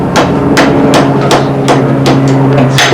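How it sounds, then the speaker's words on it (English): A blacksmith's hammer strikes hot metal on an anvil in a blacksmith shop, about eight sharp ringing blows at a steady, unhurried pace over a faint hum. "It's forging something very carefully with this hammer."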